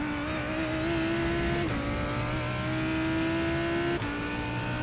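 A GT3 race car engine in iRacing at Sebring drones loud and steady with a high harmonic whine, with two quick upshifts, near and continuous with no talk.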